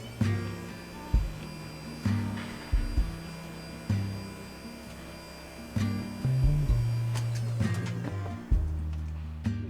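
Electric elevator bed in a converted camper van, its motor humming in repeated short runs, each starting with a faint click or thump and some lasting longer as the bed travels.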